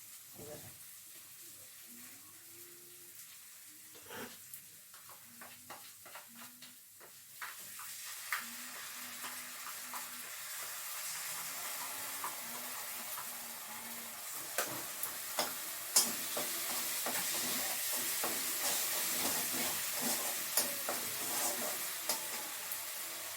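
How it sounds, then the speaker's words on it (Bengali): Spice paste with poppy seeds fries in oil, a soft sizzle that swells into a louder, hissing fry with scattered clicks of stirring, close by, while a person hums in the opening seconds. "এবার আমি একটু মশলাটা কষিয়ে নিই, পোস্ত দিয়ে পোস্তটা একটু কষিয়ে নিই"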